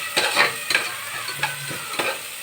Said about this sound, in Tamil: இஞ்சி பூண்டு பேஸ்ட்டு போட்டு நல்லா கிண்டி விடணும்